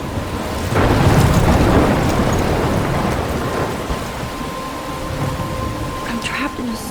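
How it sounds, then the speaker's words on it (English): A thunderstorm in Life Is Strange: a heavy rumble of thunder rolls in and fades under steady pouring rain, loud and close, with the rain hiss continuing after the rumble dies down. "I'm trapped in a storm?"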